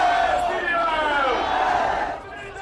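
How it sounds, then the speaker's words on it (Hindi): A large crowd at a Yogi rally chants Jai Shri Ram slogans in a loud, massed roar of voices that holds steady, then drops away near the end. "भीड़ जय श्री राम के नारे लगा रही थी"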